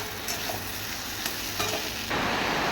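Fried fish being stirred in a pan with chopped coriander and green chili, a constant close sizzle with a few light scraping strokes, and the frying grows louder near the end.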